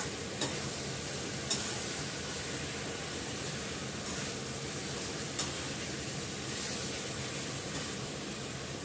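Onion, garlic and ginger paste with split dried chillies fries in a pan, a continuous quiet hiss and sizzle broken by occasional soft stirring clicks, with nobody talking.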